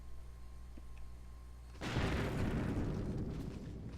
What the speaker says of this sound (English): Okay, I guess an explosion works.